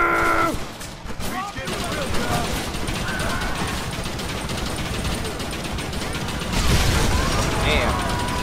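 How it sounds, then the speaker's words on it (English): Gatling gun in the video game Red Dead Redemption firing continuously at close range, a loud, sustained rattling burst with crashing impacts mixed in, swelling louder toward the end. "Gatling gun to the rescue."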